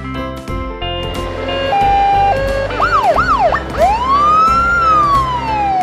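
A police utility vehicle siren sounds loud and close, starting with a held two-tone note, then rapid rising and falling wails and a long sweeping howl.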